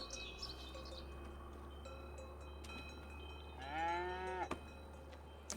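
Cattle stand inside a farm building. A single loud moo rises near the end over a quiet background with faint bird chirps and a few knocks.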